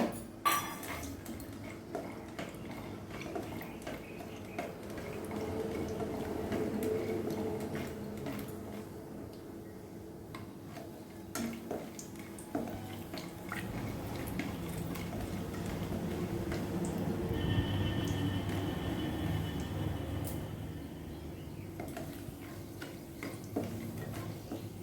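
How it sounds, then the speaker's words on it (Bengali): Peanuts being dry-roasted in a pan over a gas flame: a quiet, irregular patter of light clinks and ticks as the nuts are stirred and shift against the metal, continuing throughout with no talking. "চিনে বাদামটা আমি ভেজে নেব।"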